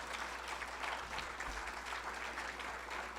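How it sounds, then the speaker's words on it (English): Lecture audience applauding a retiring colleague, a steady wash of many hands clapping at moderate distance, continuous with no break. "please give Deb a round of applause for putting up with me for so long"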